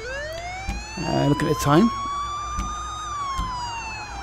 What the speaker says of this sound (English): Turn my sirens off.